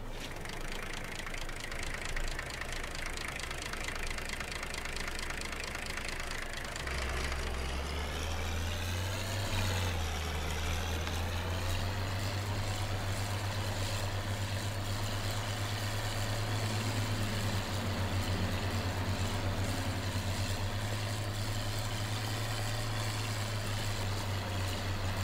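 A tractor engine in Farming Simulator 22 runs steadily at idle with a low, continuous hum, rising briefly in pitch partway through before settling at a slightly higher steady drone, with no talking.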